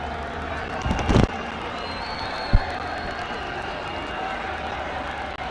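A night-time football stadium crowd in Southern Africa keeps up a steady broad roar, with a brief louder burst early on and a single sharp knock partway through.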